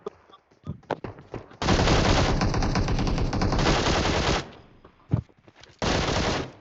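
Automatic gunfire in PUBG Mobile, heard as a loud sustained burst of rapid shots lasting nearly three seconds, then a single shot and a second loud burst, with brief talk before the firing.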